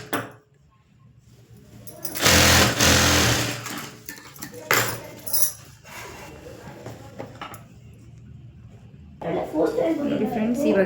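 Domestic sewing machine stitching the side seam of a chimmi garment, running in short, uneven bursts of whirring with pauses between them, at close range, with a tailor talking over parts of it.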